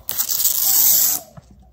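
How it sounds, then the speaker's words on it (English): Protective tape peeled off a new monitor screen in one steady pull, a close, continuous tearing rasp lasting about a second before stopping, followed by a small tap. "There's some tape. Enjoy that peel, guys."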